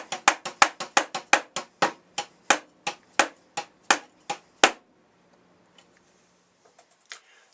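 Sharp drum strokes on a practice pad standing in for a tom-tom, played with the Moeller technique: about fifteen crisp, evenly spaced hits, some louder as accents, closely miked, then near silence with a few faint taps.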